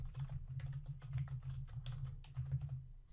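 Someone typing on a computer keyboard: soft, quick key clicks in an irregular stream, faint and close, over a steady low electrical hum.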